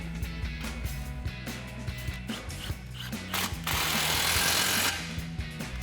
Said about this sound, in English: So now that we've got that snugged up with our 15mm socket